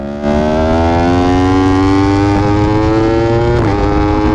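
A racing motorcycle screams at high revs on the Misano circuit, a loud, close, steady engine tone that briefly dips and rises as a gear shifts near the end.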